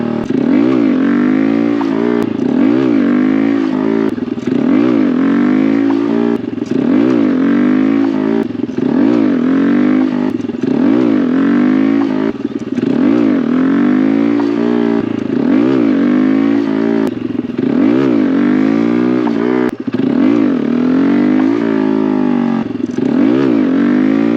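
A Honda Grom motorcycle ridden on repeated wheelie attempts, its small engine revving hard and dropping back in a steady cycle of throttle surges, loud and close throughout with no talk.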